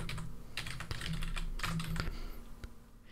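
Someone types a search keyword on a computer keyboard, producing quick, uneven bursts of close, crisp key clicks with short pauses between words, alone without speech.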